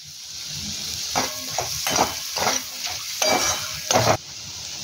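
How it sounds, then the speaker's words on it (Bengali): Mushrooms cook in a pan with garlic as a spatula stirs them in about five scraping strokes over a steady sizzle, heard close up with no talking. "এবার ঢাকনাটা তুলে ভালো করে আবারও নাড়িয়ে দেব।"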